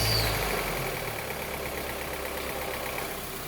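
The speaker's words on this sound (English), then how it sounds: "go ahead, fire the thing up, and then we'll let it come down to idle." A 2008 Mazda 3 engine settles into a steady, rumbling idle after a louder burst at the start, running continuously close by with no talking.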